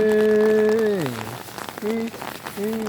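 Steady rain falls on a lake, a close, constant hiss of drops beneath a sustained humming voice that glides in pitch and pauses.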